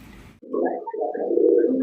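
Lahori pigeons coo, a male and a black female pair in breeding, giving low throaty rolling coos close by, repeated almost continuously after a brief quiet moment at the start.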